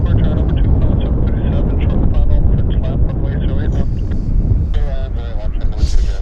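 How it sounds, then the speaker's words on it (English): United Airlines airliner at Vancouver Airport, its broad engine roar steady and loud throughout, mixed with heavy wind buffeting on the microphone and an occasional voice. "Here comes United Airlines."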